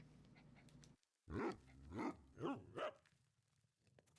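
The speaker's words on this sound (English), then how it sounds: "The soothing sound of the woofs." Four deep, close woofs from a dog come in a steady rhythm after a short silence, each bark full and resonant, with faint background hum and a slight growling edge.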